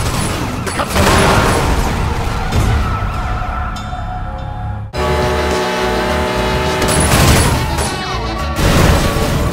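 A police car siren in the video game Sleeping Dogs wails over loud car chase noise, with engine roar and mechanical clatter sometimes pushing the siren into the background.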